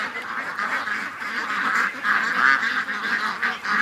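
Ducks calling near a swamp, a continuous overlapping chorus of honks and quacks, fairly close and loud, with no one talking.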